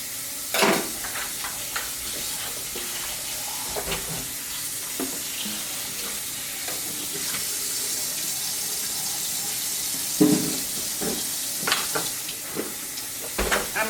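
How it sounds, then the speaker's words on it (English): Cut potatoes are rinsed under a running kitchen tap, a steady hiss of flowing water with occasional louder splashes and clatters as the pieces are stirred and moved, fairly close and alone. "Now I'm just going to rinse these off."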